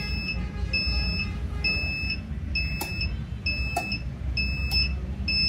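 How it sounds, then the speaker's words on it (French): An XM-18 incubator controller's humidity alarm beeps in steady, evenly spaced pairs of high tones over a constant low mechanical hum, with a few sharp clicks. "Maintenant, c'est l'humidité, à cause de l'humidité que l'alarme est encore là."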